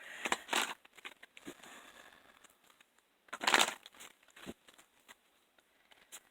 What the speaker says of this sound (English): you're still making me shuffle more